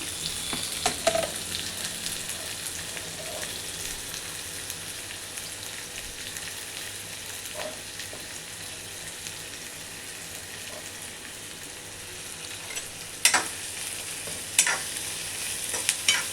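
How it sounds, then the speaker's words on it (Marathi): Onion frying in a pan of hot oil with bay leaf and whole spices for chicken keema, a soft, steady sizzle heard close but fairly quiet, with occasional stirring scrapes and a few louder clinks toward the end. "कांदा आपल्याला एकदम जाळायचा नाही, गुलाबीसर करायचा आहे। कांदा भाजून घेऊया चांगला।"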